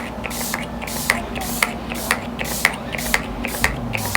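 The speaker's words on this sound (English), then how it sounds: "I'm gonna drench my face with the Do It spray first." Repeated short bursts of a setting spray mister hissing onto a face in a quick, regular rhythm, each puff close and sharp, with a faint click on every pump.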